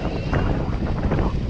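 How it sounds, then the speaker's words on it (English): Steady wind buffets the microphone with a constant low roar and rumble, close and fairly loud throughout, outdoors beside a 4 kW mid-drive electric bike. "It's very windy around here."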